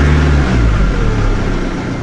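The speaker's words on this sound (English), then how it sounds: "I gave it a couple of revs and it did blow a bit of black soot" A Nissan Navara diesel engine revs loudly and close up, a deep throbbing roar that eases slightly over a couple of seconds, with no voices.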